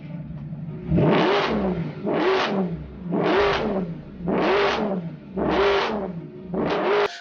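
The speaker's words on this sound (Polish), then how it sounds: "brzmi przepięknie ten układ wydechowy" A Mercedes SLS with an aftermarket exhaust system, tuned from 571 to over 620 horsepower, is revved six times in an even rhythm. Each rev is a sharp, rising blip followed by a brief drop back toward idle, loud and close.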